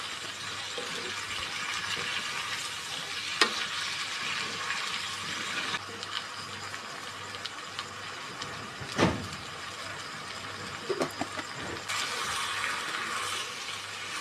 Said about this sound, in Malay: Oseng-oseng lah bagi dia masak betul.